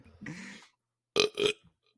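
A person burps twice in a quiet room: a short, low, throaty eructation, a pause of about half a second, then two quick guttural bursts close to the microphone.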